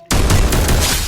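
Gunfire in the Free Fire video game from a newly tried G-Crystal gun, a loud, close burst that starts abruptly and rolls on with several rapid shot pulses and no talk.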